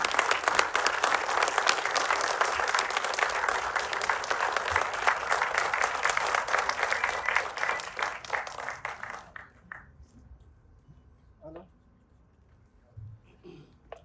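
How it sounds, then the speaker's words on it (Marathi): An audience at a film trailer launch applauds loudly with dense, sustained clapping for about nine seconds, then the applause quickly dies away into scattered claps and quiet room noise. "एका जोरदार टाळ्या झाल्या पाहिजे"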